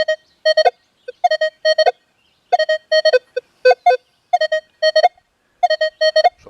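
Minelab Manticore metal detector at recovery speed 7 sweeps over buried targets in surface seawater, giving loud, clean electronic tone beeps in quick pairs and clusters, with short silences between sweeps.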